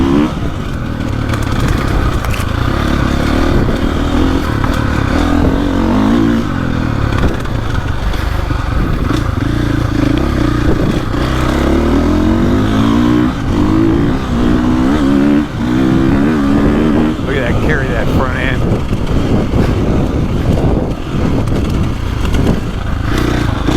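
A 2024.5 KTM 450 Factory Edition dirt bike engine drones loudly and continuously on a rider-mounted recording, with throttle rising and falling and choppy terrain rattling the bike throughout.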